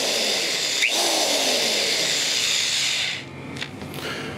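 A power tool runs steadily with a loud, continuous hissing whir, then cuts off and restarts more quietly in the opposite direction, with short bursts near the end.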